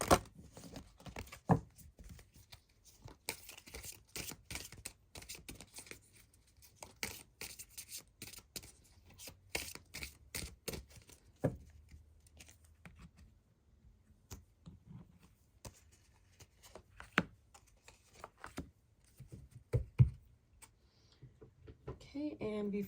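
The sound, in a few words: shuffling an oracle card deck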